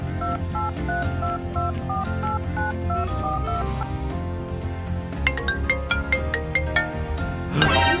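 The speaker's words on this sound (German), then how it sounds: "Ich bekomme einen Anruf." Phone ringtone announcing an incoming call, a repeating melodic electronic tone pattern that plays loud and steady, shifting to a brighter chiming phrase near the end, with no talking over it.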